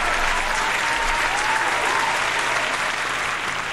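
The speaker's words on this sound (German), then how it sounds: "Ja, einmal Applaus für dich." Steady applause from a crowd, dense and continuous clapping throughout, fairly loud with no pauses.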